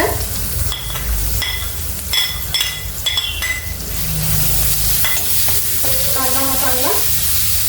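Onion frying in a pan for lemon rice, stirred with a metal spoon: a steady sizzle runs under repeated sharp clinks and scrapes against the pan, ending in a bright ringing clatter, close and without talking.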